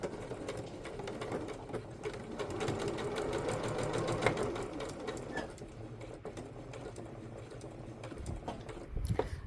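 A sewing machine stitches fabric for a handmade book sleeve, a close, continuous rapid whirring and ticking that runs for several seconds, easing slightly before a couple of sharper knocks at the end.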